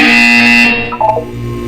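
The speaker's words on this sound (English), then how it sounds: "When you hear the buzzer, look up at the ceiling" A loud electronic buzzer sounds in the Portal 2 video game, a harsh tonal drone that holds briefly and then cuts off abruptly.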